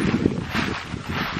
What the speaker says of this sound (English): the wind just picked up